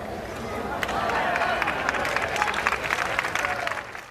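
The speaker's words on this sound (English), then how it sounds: "while her friend applauds like they just won the lottery" Crowd applause at a tennis match: dense, sustained clapping with a murmur of voices, filling the whole stretch and fading only at the very end.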